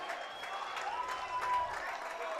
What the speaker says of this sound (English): LP fans are going crazy on that side.